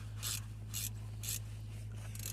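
Bolts being tightened back in on the front brakes of a Vauxhall Astra with a size 7 tool: four short, evenly spaced ratcheting bursts up close over a constant low garage hum.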